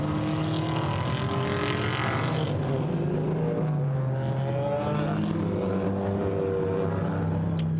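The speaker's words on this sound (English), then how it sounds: "And the cars look great, sound fabulous." GT4 race cars of several makes, among them BMW, Chevrolet, Ginetta, Mercedes and McLaren, roaring past at Zandvoort circuit, engines rising and falling through gear changes in a continuous loud, overlapping drone.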